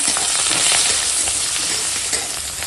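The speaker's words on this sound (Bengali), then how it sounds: "ওই তেলেই দিয়ে দেবো কেটে রাখা পেঁয়াজ আর কাঁচা লঙ্কা দিয়ে ভেজে নেব।" Chopped onions and green chilies frying in oil left from frying fish, a close, continuous dense sizzle with light stirring crackles and no voices.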